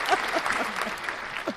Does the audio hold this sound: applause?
yes